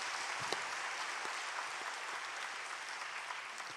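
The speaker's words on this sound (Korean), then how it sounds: "박수 한번 보내주세요." Church congregation at a worship service applauds in a steady, even wash of clapping, distant and fairly faint, with no voices over it.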